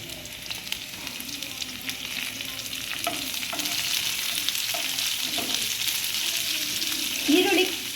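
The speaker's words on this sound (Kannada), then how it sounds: "ಈಗ ಈರುಳ್ಳಿ ಹಾಕ್ಕೊಳ್ಳೋಣ." Onions frying in oil with curry leaves and Byadagi chillies, a continuous hiss and crackle of sizzling with repeated scraping clinks as a spoon stirs the pan, close and fairly loud.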